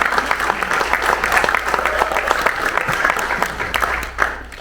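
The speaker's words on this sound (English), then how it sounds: "can we get a round of applause for both the City of Miamisburg" A crowd at a premiere in Miamisburg claps loudly and steadily, a close burst of applause lasting the whole few seconds.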